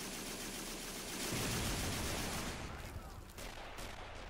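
Tank gunfire in the World War II strategy game Men of War during the 1939 German invasion of Poland, a dense, continuous roar of rumbling battle noise that swells midway and then eases slightly.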